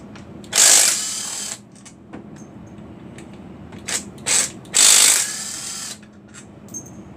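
A ratchet wrench at work while a blown Hemi engine is torn down, with several close bursts of rapid clicking, two long runs and a few shorter ones, separated by quiet pauses in a workshop, with no talk.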